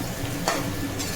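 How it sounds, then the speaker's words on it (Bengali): Metal spatula stirring onions as they fry in a home kitchen pan, a steady sizzle with scraping strokes and a brief brighter clatter midway, close and moderately loud with no talk. "প্লাস এখানে আমরা রান্না করছি, সেই খুন্তির আওয়াজ হচ্ছে"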